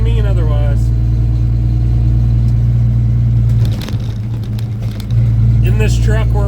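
M11 Cummins-powered dump truck running with a steady, loud low-pitched engine drone throughout, with a brief dip mid-way before the rumble returns, and a voice heard faintly at the start and end.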